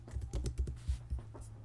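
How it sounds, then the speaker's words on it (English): Rapid typing on a computer keyboard, a close run of crisp key clicks in uneven bursts with short pauses between, heard alone without any talking. "Forgive my typing."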